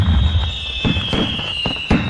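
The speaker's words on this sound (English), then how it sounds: "I'm watching fireworks with her." Fireworks burst in a quick series of sharp booms and crackles, several distinct blasts spaced unevenly over a steady high whine in the background, fairly loud and close, with no talking.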